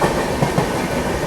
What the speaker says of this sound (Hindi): दिल्ली से अभी जस्ट निकली अपनी तमिलनाडु एक्सप्रेस।